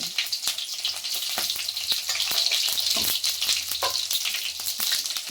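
Bay leaf, cinnamon, cloves, green chilli and shahjeera sizzle in hot oil for a veg pulao, a steady close frying hiss with crackling pops and occasional stirring taps.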